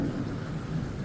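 Heavy rain with a low rumbling thunder undertone during a violent August storm in the Drôme, a steady dense wash continuing without a break and no voices.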